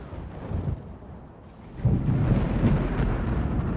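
Thunder rumbles from an approaching storm on a hiking trail, first as a soft distant roll, then swelling into a loud, sustained low rumble that carries on to the end, with no voices.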